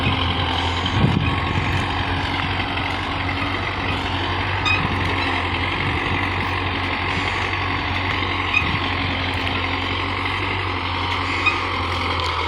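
A Belarus MTZ 50 tractor hauls an 11-tine cultivator through a field, its diesel engine holding a loud, steady drone for the whole stretch, with occasional faint knocks.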